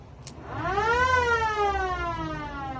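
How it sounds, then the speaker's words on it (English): An old-school electric siren wired into a 1965 Buick Riviera wails on one rising-then-falling tone, close and steady for a few seconds, with a low engine or electrical hum beneath it and no talk. "obviously that was for an old school siren"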